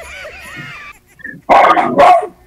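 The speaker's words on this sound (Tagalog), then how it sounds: "Malakas ang tahol lang aso namin." A household dog barks loudly, two strong close barks after a quieter stretch of whining and faint background sounds.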